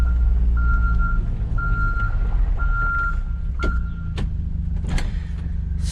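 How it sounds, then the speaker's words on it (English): A truck's backup alarm beeps four times in an even rhythm over a loud idling engine rumble, followed by a few sharp clanks. "Horns and backup alarms must be audible."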